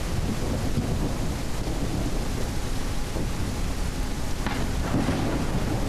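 Steady heavy rain and wind in the video game Detective: Rainy Night, with faint rumbles of thunder rolling under the downpour. Continuous and fairly loud, with no voices.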